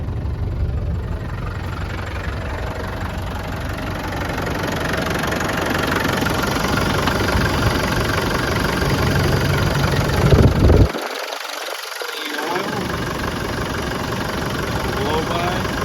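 A 1996 Land Rover Defender 110 with the 300Tdi diesel engine idles steadily and close by, a continuous low rumble that holds even throughout, with a brief bump in level near the end.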